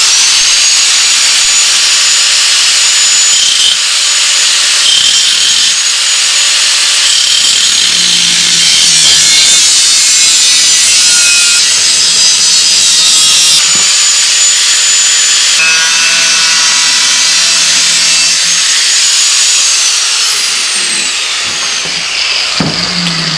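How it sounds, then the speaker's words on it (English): A disc cutter grinds through the sheet-metal fender of a bobber motorcycle, a loud, sustained high-pitched whine that rises and dips as the blade bites and eases across the cut. "So then take this cutter and chop that out."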